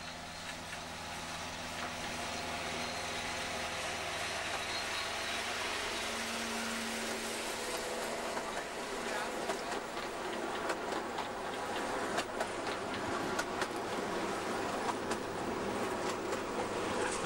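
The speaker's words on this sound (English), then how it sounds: "this is where the two trains pass each other" Two steam trains pass each other on a line at a steam gala, heard from trackside as a steady rumbling roar with rhythmic clatter of wheels building louder toward the end.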